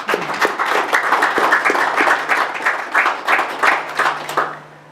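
Audience clapping at the Spinal Cord Injuries Australia annual general meeting, a modest room of hands producing a steady patter of claps that fades out at the end.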